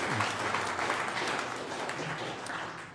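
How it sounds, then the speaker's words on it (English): An audience applauds continuously for a few seconds, a dense patter of clapping hands. "that deserves another round of applause"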